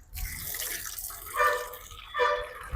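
Water from a tap pipe at Bannari Amman Temple in Sathyamangalam, used for washing feet before worship, runs in a steady close stream with splashing that swells twice, and no one speaks.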